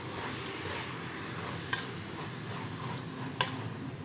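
Tomatoes and masala stirred into a sizzling pan for Thalassery dum biryani, a steady close fry hiss with soft scraping and two sharp utensil taps against the pot.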